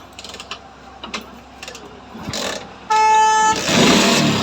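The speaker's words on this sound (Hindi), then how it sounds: "ये देखिए स्टार्ट हो गया, आरपीएम छोड़ते ही यानी कि ये बंद हो जाती है।" A 2002 Kinetic Boss motorcycle with an idle fault, its engine cranking in a few short mechanical bursts, then catching with a loud steady roar near the end, close and alone without talk.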